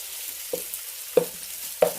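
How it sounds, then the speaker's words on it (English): Beef browning in a hot pan for a broccoli and beef dish, a soft steady sizzle broken by three short spitting pops spaced about half a second apart, close up, with no talking. "And you're going to brown it up."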